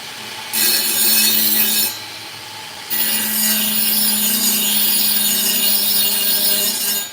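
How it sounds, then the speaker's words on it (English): Dremel-brand rotary tool grinding a chainsaw chain to sharpen it, a steady high-pitched buzzing rasp in two close, loud bursts separated by a short quieter pause, with no talking. "The Dremel, man. Dremel for the win."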